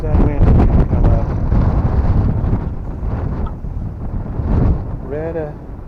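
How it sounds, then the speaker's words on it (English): Strong wind gusts roar steadily across an outdoor cemetery in Winfield, Kansas, buffeting the microphone with a loud, continuous low rumble that swells and eases. "There's that wind come up."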